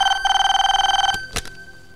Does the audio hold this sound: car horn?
no